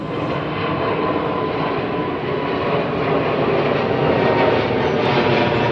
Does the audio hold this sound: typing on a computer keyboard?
no